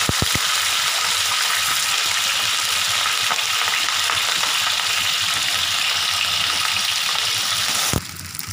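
Tilapia sizzles and crackles steadily in hot oil, a dense, continuous frying hiss close by with a few sharp clicks at the start and a knock near the end, no talking.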